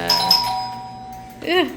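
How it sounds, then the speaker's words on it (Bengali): A doorbell rings at a home in Saudi Arabia, a bright two-tone chime sounding near and clear. The tone rings out early and rings again toward the end, and a voice briefly overlaps the second ring. "দরজা খুললেও আবার কলিং বেল চাপে"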